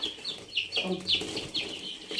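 Newly brought native village chickens nearby cluck and peep in short, repeated bursts, fairly quiet and close.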